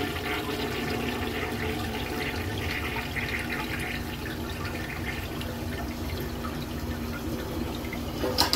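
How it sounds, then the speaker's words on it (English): A blue 1965 Borg Warner Chase Syphon Jet toilet flushing, a steady close rush of draining and refilling water that runs the whole time. "Let's flush it."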